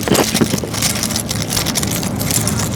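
Loud, close-up crunching of crisp apple chips, with sharp crackly bursts at the start giving way to steady noisy chewing.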